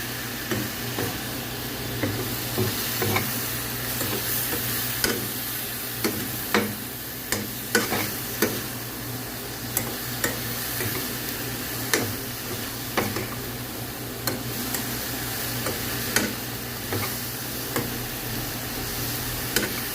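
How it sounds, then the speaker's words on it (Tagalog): Penne pasta with chicken breast and vegetables is stirred in a pan over a low steady sizzle, with light regular taps and scrapes of the utensil recurring throughout, moderately close, no voices. "Haluin ulit."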